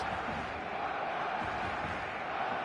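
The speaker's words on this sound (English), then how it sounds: "The stadium is full of noise and energy." A full stadium crowd in the eFootball video game makes a steady, dense wash of roaring noise that holds at an even level without breaks, moderately loud and distant-sounding.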